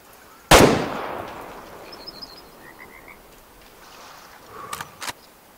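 A single loud, sharp rifle shot in the hunting video game Way of the Hunter rings out near the start and decays over a second, followed by a quiet outdoor background with a few faint clicks.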